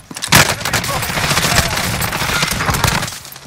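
Rapid automatic gunfire from a Warzone battle royale match, loud and sustained for several seconds with dense overlapping bursts, broadband and close, with some speech-like sound mixed underneath.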